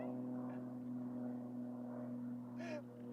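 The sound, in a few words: small airplane flying overhead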